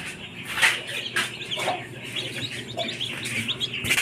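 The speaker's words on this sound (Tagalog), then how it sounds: "mga bagong sisiw natin" Newly hatched BPR chicks chirping as a group, a busy stream of short high peeps and cheeps close by, with a few louder calls standing out over steady background noise.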